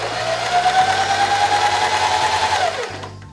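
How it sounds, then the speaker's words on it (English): Sewing machine motor winding a bobbin, a close, steady high whirring hum that runs for nearly three seconds, then slows and cuts off, leaving a low background rumble. "So I'm going to be pressing on this pedal so that way it's gonna spin it and wind the bobbin."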